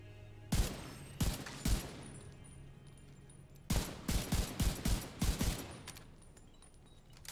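Rifle fire in The Division 2 comes as three sharp shots, a pause, then a rapid rhythmic string of about eight close, loud reports, with no talking.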